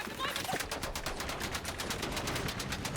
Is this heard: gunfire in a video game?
yes